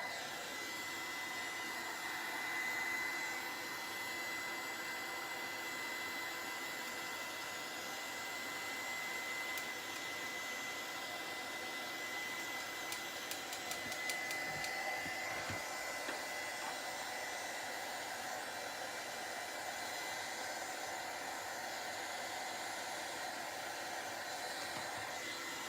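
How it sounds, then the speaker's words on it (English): A heat gun drying rust paste on an old camera gives a steady, loud, unbroken blowing whir with a faint high whine throughout. No one speaks. "Heat gun is one of the most important tools when you work with this paste"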